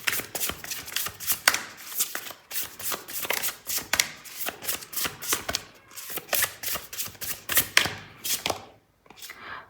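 A deck of tarot cards is shuffled and drawn by hand in a steady run of crisp riffling, slapping and sliding bursts, close and fairly loud, with no talking.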